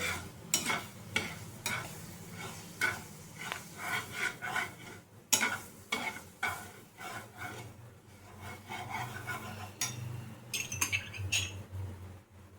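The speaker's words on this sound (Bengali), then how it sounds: "আবার দেব ম্যাঙ্গো পাল্প 2 চামচ। আবার এটাতে নাড়ব।" Mango pulp and rice mixture being stirred in a pan for a Bengali mango kheer kadam sweet, a steady run of close scraping and rubbing strokes with occasional sharper utensil knocks, no talking.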